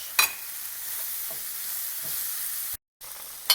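Eggs stirred in a pan while cooking a turmeric vegetable omelette, a steady scraping sizzle throughout with a few sharper spatula knocks, close and fairly loud, broken by a brief gap near the end.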